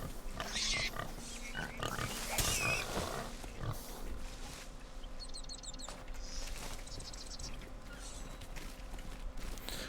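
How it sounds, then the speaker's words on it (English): Pigs grunting and oinking on an island in a video game, mixed with chirping birds and ambient game sounds, with a voice talking over parts of it. "I'm at an island with pigs, and it sounds too happy"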